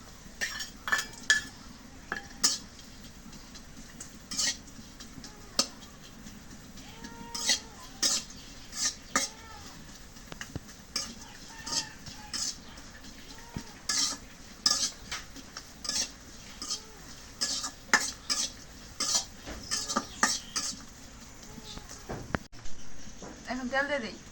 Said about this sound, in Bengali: এখন মরিচ দিয়ে দিই কড়াইয়ে